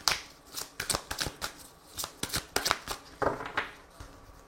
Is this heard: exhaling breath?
no